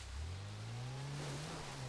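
Porsche Cayenne engine in GTA 5, a steady mid-pitched drone climbing slightly in pitch as the car cruises, loud and continuous with no talk over it.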